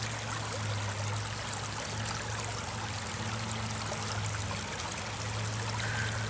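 A stream flows steadily outdoors, a continuous close-by rush and trickle of water with no voices over it.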